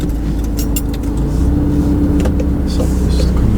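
A car rolls on during a driving lesson, its engine humming steadily with a low road rumble from inside the cabin, close and continuous, with a faint voice briefly in the background.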